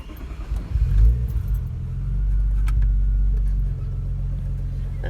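A Ford Probe engine cranks and catches, settling into a steady low idle rumble close by, with a light jingle of keys early on and no talk.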